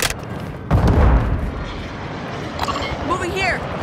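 A grenade blast in Call of Duty: Modern Warfare II, a single heavy low boom about a second in amid gunfire and battlefield noise, with voices calling out over the combat.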